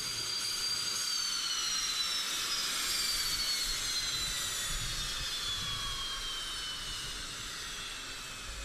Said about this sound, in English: Current versions of the Su-25 attack aircraft are still in active service in Russia, Ukraine, Belarus, Angola, Afghanistan,